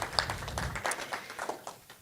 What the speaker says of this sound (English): So let's give them a round of applause before we get started.